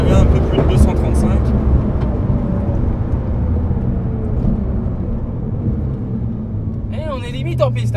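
Porsche 911 Turbo SpeedArt 650 EVO engine pulling hard at high speed on a track, a loud steady roar with wind and road rumble throughout, and a person speaking over it.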